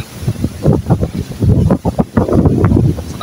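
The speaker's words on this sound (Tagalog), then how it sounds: "medyo malakas din yung hangin na puputol yung tali" Strong wind buffets the microphone in loud, rough low-frequency gusts near a boat, with a constant roar that rises and falls continuously.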